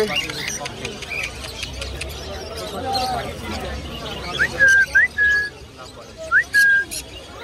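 Small birds give a few short, bright, whistled chirps in quick bursts at a crowded bird market, standing out over a low murmur of people talking in the background.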